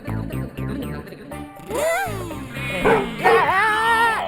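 Short woofs repeat rhythmically at first, then give way to whining, howling dog-like calls voiced by a person imitating a dog in an animated cartoon.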